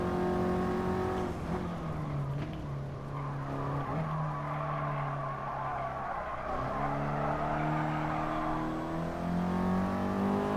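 A race car in the video game GT Sport drones loudly through a corner, the engine note dipping and rising with gear changes while tires squeal and skid beneath it.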